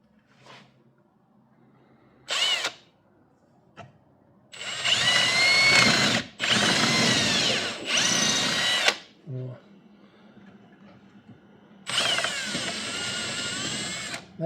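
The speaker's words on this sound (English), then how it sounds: "I hate to drill a big hole," Several loud bursts of a power drill boring a big hole, each lasting a second or two, with short pauses and a quiet voice in between.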